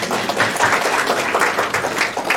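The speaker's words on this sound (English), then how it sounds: "Give yourselves a round of applause." Congregation at a Sunday service in London, Ontario applauds itself, a close, lively burst of many hands clapping with a quick, uneven rhythm that runs throughout.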